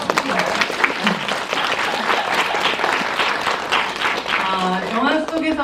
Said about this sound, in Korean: 그런 박수 한번 드립니다.